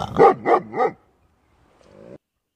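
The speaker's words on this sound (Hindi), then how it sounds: "डॉग मतलब कुत्ता" A dog gives three quick loud barks in a row, followed by a quieter short whimper after a pause.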